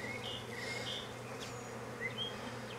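Honey bees drone and buzz around an open hive in Jacksonville, Florida, a dense steady hum with individual bees whining past up close; no one speaks.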